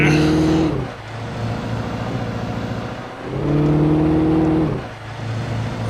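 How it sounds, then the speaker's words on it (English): Car engine in the video game Alan Wake, heard as a loud engine that revs up and drops twice in sustained surges with a rough, worn tone, driving on slippery roads. "This car sounds like it's had better days."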